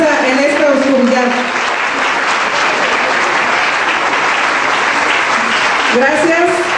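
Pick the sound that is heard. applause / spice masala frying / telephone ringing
applause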